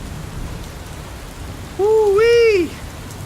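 Steady rain falls as a sound effect in an audio story, a soft continuous hiss throughout, while a voice lets out a brief high exclamation near the end.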